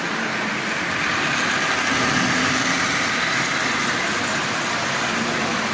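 A Marx 595 toy locomotive with a double reduction motor, lightly oiled, runs with a steady, loud mechanical whir and buzz that keeps an even drone throughout, with no talking.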